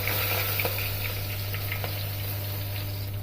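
Cumin, mustard seeds and curry leaves sizzle steadily in hot oil for a South Indian sambar, a close, continuous crackle with a few sharper pops and no talking.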